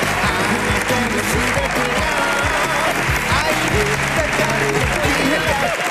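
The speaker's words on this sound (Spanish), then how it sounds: "Por favor, un fuerte aplauso y que pasen Rosa y Luo." Studio audience at a Spanish television variety show applauds loudly as two guests walk on, a dense, sustained wash of clapping that lasts the whole time, with voices and background sound mixed underneath.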